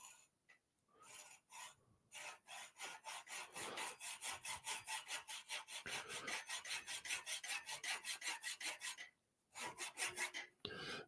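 A hand saw cuts wood in quick, regular back-and-forth strokes, close up, with brief pauses between bursts of rasping sawing.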